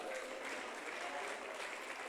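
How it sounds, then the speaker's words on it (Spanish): Steady applause from a church congregation at a sermon, a dense continuous patter of clapping held at an even level for the whole stretch with no voice above it. "Denle ese aplauso fuerte al Señor"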